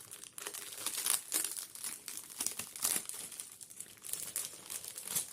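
An embroidery canvas is unwrapped from its plastic packaging, with close, irregular crinkling and rustling bursts that rise and fall.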